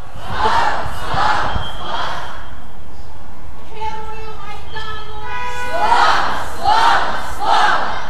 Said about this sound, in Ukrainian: Усі разом співали національний гімн, крізь сльози вигукували Герою Майдану. Слава, слава, слава!